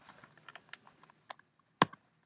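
Keys tapped on a computer keyboard in an irregular run of light clicks, with one sharper, louder keystroke near the end, quiet and close with no talking.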